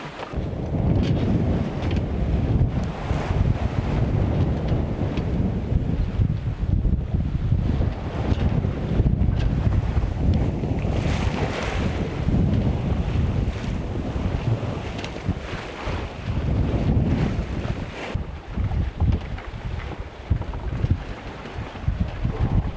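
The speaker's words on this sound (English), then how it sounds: "with all the sounds and the movements of the wind in the ocean" Wind and ocean waves batter a sailboat on an open-sea passage toward Colombia, a loud, sustained roar of gusts buffeting the microphone with surging swells that rise and fall continuously, with no talking.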